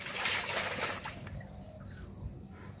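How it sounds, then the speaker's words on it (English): A French bulldog splashes and sloshes about in water, with loud, close splashing over the first second that then settles into quieter trickling and dribbling. "Watch out, you're gonna splash me, Gizmo."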